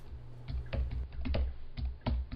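Computer keyboard keys tapped in uneven bursts while coding in ZeroBrane Studio, a rapid run of close, crisp clicks with brief pauses and no talking.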